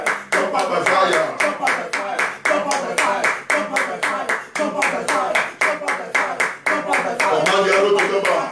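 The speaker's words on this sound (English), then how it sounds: "as I clap my hands" Hands clap in a fast, steady rhythm during a church prayer session, each sharp clap distinct and close, with a voice speaking over the beat.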